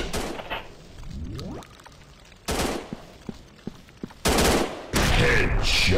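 Gunfire in the mobile FPS game Gun Strike Shooting 3D: loud bursts of shots in separate clusters, with quieter stretches between and a rising swoosh effect early on.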